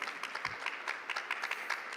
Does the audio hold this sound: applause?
yes